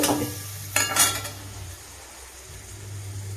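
A potato and lentil curry simmers in a pan, giving a soft steady bubbling hiss with a couple of brief stirring scrapes early on, heard close with no talking.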